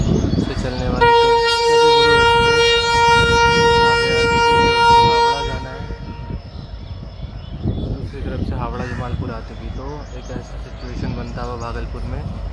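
Howrah Jamalpur Express pulling into a station, its train horn sounding as a loud sustained multi-tone blast for several seconds, then giving way to rumbling carriages and station bustle with people talking nearby.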